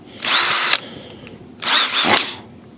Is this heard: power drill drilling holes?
yes